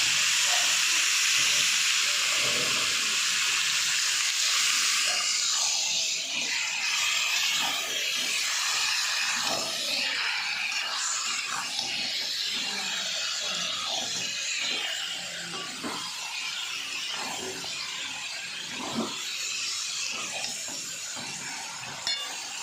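Chicken hits a hot pan and sizzles loudly and continuously, a bright steady hiss that eases slightly toward the end, with faint clatter of cooking underneath.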